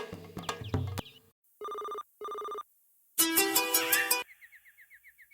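A phone rings with a melodic electronic ringtone: a tinkling tune, two long steady beeps, then a bright, busy musical burst fading into short repeated chirps.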